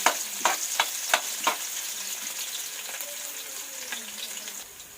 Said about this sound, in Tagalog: Unahin po natin ang luya. Hayaan mo natin maluto ang luya.